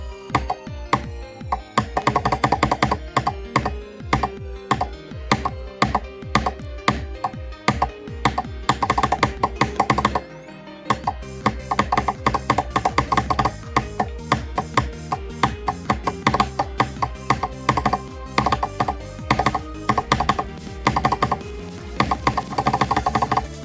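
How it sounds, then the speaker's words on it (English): Normal computer keyboard with the up arrow key hammered during a Geometry Dash extreme demon attempt, a dense, loud, rapid stream of clicks with a brief pause midway. "because it's a normal keyboard, and I use the up arrow key"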